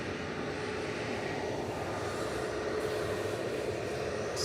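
A distant airliner's engines at Manchester Airport roar in a steady, broad rumble, unbroken throughout with no voices.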